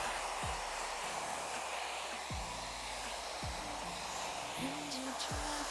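A hair dryer fitted with a diffuser blows a steady, close whoosh while drying curly hair, with a voice murmuring faintly beneath the airflow.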